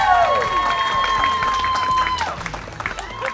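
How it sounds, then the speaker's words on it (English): An audience applauds and cheers after a performance at the Epcot International Festival of the Arts, dense clapping fading toward the end, with a sustained musical tone at the start. "Give yourself a round of applause."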